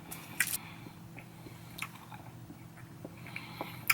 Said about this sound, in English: It's like a hard candy that you can chew.